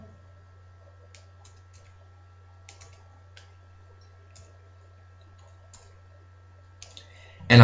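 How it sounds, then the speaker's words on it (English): Fingers tapping number keys on a calculator, a scattered series of soft, close clicks over a steady low hum, ending in a louder burst of sound. "Type that into a calculator."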